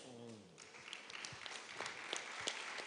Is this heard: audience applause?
yes